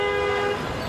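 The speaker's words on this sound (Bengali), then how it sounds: "কান ফাটানো হর্ন থেকে রাজধানীবাসীকে কিছুটা প্রশান্তি দিতে" A single sustained car horn blast sounding close and loud amid city traffic, lasting just under a second.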